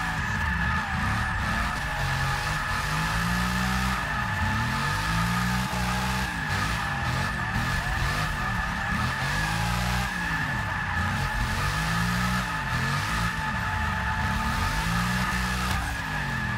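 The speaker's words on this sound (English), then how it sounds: "good follow from Kiros there as well. The pro following in his Mercedes" Drift cars in a European drift series run at Monza in 2017, with a pro driver's Mercedes following the lead car. Loud, continuous tyre squeal and skidding ride over revving engines with rising and falling pitch, and no one speaks.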